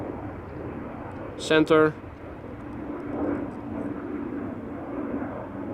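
An airplane departs Amsterdam Schiphol Airport as a distant, steady jet roar that swells gently, with a short spoken word briefly over it.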